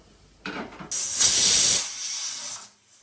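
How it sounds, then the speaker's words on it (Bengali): Pressure cooker full of mutton cooking with ginger paste, onion, mustard oil and spices, releasing a short burst of steam, then a louder sustained hiss that fades away, close and alone. "কুকারের মধ্যে দিয়ে সিটি দিয়ে দেবো।"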